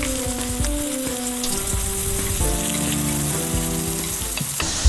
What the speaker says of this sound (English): oil up a pan and fry. Fry till turns brown.